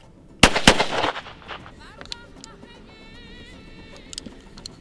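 A shotgun fires a reloaded .410 shell with two loud, close blasts in quick succession that ring out and fade, followed by faint background sounds.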